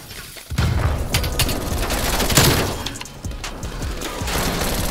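Incoming gunfire in a Call of Duty: Black Ops Cold War match: dense, loud bursts of shots and impacts for several seconds, close to the player.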